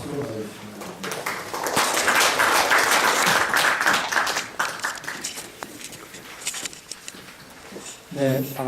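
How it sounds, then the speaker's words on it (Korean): An audience at a policy forum applauds to welcome a speaker, a dense burst of clapping that swells, holds for a couple of seconds, then thins into scattered claps before a voice begins. "박수로 맞아주시면 됩니다"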